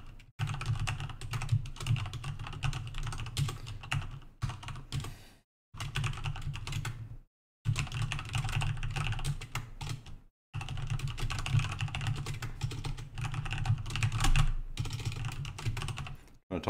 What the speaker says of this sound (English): Type too quickly.